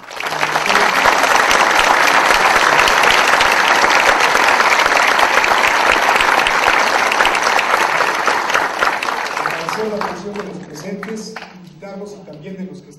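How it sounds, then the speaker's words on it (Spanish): Sustained applause from a seated audience at a public talk on earthquake risk communication, loud and dense for about ten seconds before thinning into scattered claps and fading. "un aplauso del público."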